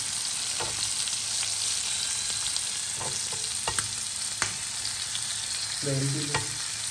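Steady hiss of fish frying in hot oil, with scattered pops and crackles spluttering throughout, close up and continuous.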